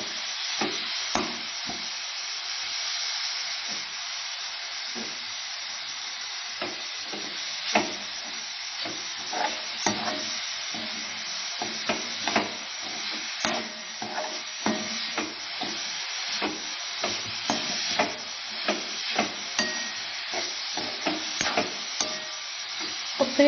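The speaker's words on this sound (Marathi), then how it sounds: "फक्त हे सारण सतत ढवळत राहायचं" Modak filling is stirred in a pan, a steady soft sizzle and hiss broken by repeated scraping strokes of a spoon against the pan, close and continuous with no talking.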